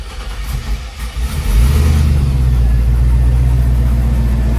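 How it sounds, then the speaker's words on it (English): A twin-turbo Silverado fitted with a new dual 3-inch exhaust cranks and fires up, then settles into a loud, deep, steady idle rumble close by, with no talking. "let's go ahead and finally start her up"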